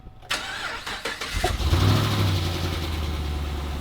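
A Saleen Mustang with a dented radiator and low tire pressure cranks briefly and fires up, settling into a steady, loud, rumbling idle close by.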